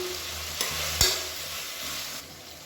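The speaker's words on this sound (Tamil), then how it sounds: "தக்காளி வதங்குறதுக்கு உப்பு சேர்த்துக்கலாம்." Onion and tomato with salt frying in a pan, a soft sizzle broken by a couple of quick spoon scrapes and one sharp clink against the pan.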